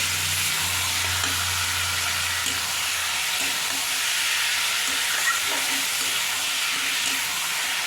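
Lotey fish (Bombay duck), rubbed with salt and turmeric, is stirred into spices in a frying pan, giving a steady close sizzle throughout with soft scraping under it and no talk.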